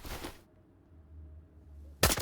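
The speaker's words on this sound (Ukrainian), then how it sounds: "Давайте затестимо на бронебійних." Two sharp, loud armor-piercing gunshot bursts in a video game, one at the start and one at the end, with a low quiet rumble in between.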